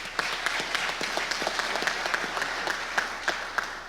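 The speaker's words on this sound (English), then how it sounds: "Let's give a big round of applause to Steve Nolette." An audience at an offshore wind supply chain conference applauds steadily for several seconds, a dense, even wash of many hands clapping with a few sharper individual claps standing out.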